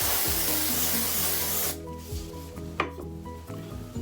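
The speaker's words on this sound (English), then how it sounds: "So depending on the day, I spray it." A steady hiss of hair product spray runs for under two seconds, then cuts off, followed by soft rubbing and small handling sounds nearby.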